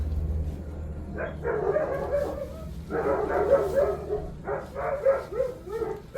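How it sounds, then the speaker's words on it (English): Dogs barking in a scattered series of yips and barks at moderate distance, over a low steady background hum. "My dogs are barking, sorry."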